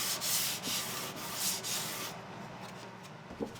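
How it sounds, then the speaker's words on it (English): Wooden edges of a handmade cajon box drum are lightly sanded by hand, a close, steady rubbing rasp in repeated strokes that fades into quieter scrapes near the end. "I'll put a round over on the edges and lightly sand the whole thing"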